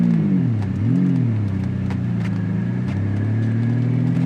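A Lamborghini Diablo's engine drones loudly and steadily while driving, with a brief rise and fall in revs near the start before settling into a continuous close-up hum.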